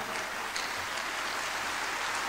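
A conference hall audience at a youth leadership assembly claps in a dense, steady roar of applause, loud and sustained with no voices over it.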